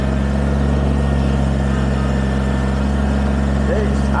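A Kubota BX23S compact tractor engine runs steadily at idle while clearing logs on a property, a continuous low rumble with no pauses throughout.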